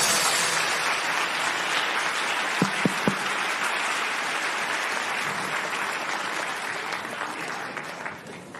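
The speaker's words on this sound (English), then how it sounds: "A great applause" A conference audience gives a long, loud round of applause after a science panel. The dense clapping is steady for over eight seconds, with a few sharp knocks early on, and tapers slightly at the close.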